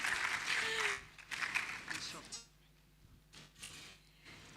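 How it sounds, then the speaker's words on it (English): Conference audience at the Clean Conference claps for a speaker, a short round of applause in the room that fades into quieter talking. "Let's clap for her."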